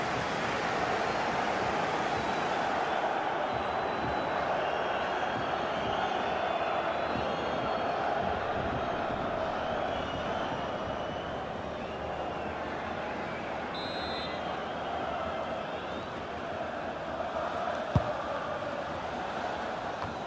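A large stadium crowd in the FIFA 21 football video game roars and murmurs continuously at a distance, a broad wash of noise with swelling chants and a sharp whistle-like blip near the end.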